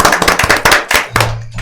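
Brief burst of applause from a small group, close and loud, with claps clattering unevenly and thinning out toward the end.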